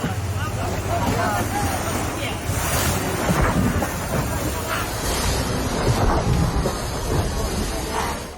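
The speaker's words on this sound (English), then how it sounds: "Caught in the storm, the sailboat leans hard with every wave, hanging on as the sea tests its limits." Stormy sea waves pound a sailboat amid gusting wind, a loud, continuous churning wash with wind buffeting the microphone and no clear talk.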